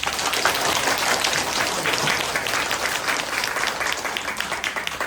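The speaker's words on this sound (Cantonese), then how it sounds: "用啲熱烈掌聲歡迎阿羅師傅" Warm applause from a seated audience at a Wudang tai chi lecture in a Hong Kong Taoist hall, welcoming the master to the stage; dense, steady clapping fills the room throughout with no speech.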